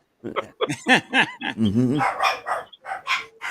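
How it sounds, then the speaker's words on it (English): Several dogs bark and yip in quick, overlapping bursts close by, loud and busy, with a voice mixed in among the barking. "Now they're all barking"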